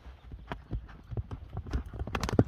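A racehorse's hooves clip-clop close by on hard ground, quick and uneven at first, then picking up into a faster beat toward the end.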